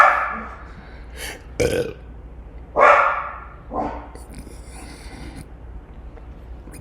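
A few dogs let out short barks and yips at intervals near the microphone, several separate bursts with a brief word spoken between them.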